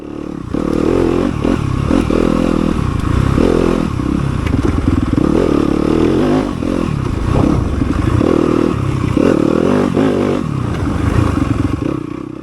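Dirt bike ridden hard along a wooded sprint enduro trail, recorded on board, with a loud continuous engine that surges and drops with throttle, plus clattering and scraping from the terrain throughout.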